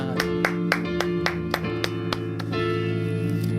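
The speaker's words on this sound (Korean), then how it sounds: "우리 영광의 박수를 드리겠습니다" Steady rhythmic clapping at a church worship service, about ten sharp claps in even beats, over sustained music with held chords.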